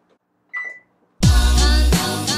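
A kitchen timer beeps once, short and close, while home-brewing beer from grocery store ingredients; loud steady rushing noise follows right after.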